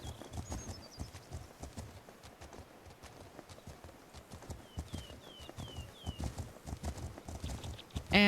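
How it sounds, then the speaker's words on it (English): Horse hooves trot in The Legend of Khiimori, a steady rhythmic clip-clop with a few faint bird chirps in the background and no talking over it. "I'm gonna pick it up to a trot"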